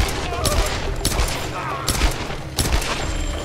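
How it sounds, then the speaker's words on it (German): Six sharp gunshots crack out at uneven intervals from the Tomb Raider video game, loud and close against a busy in-game background. "6 Schüsse."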